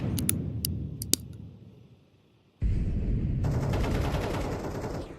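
SMG gunfire in a competitive video game match: a few sharp clicks and shots, a brief lull, then a sustained dense burst of rapid automatic fire with a high metallic ring.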